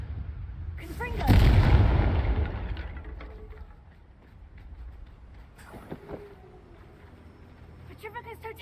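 A Confringo spell in the game Hogwarts Legacy detonates as a loud, booming blast that decays into rumbling debris, followed by smaller crackles and impacts, with a person speaking around it.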